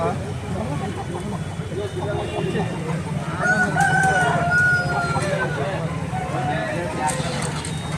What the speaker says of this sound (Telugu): చూడండి మంచి మంచి పుంజులు వచ్చినాయి.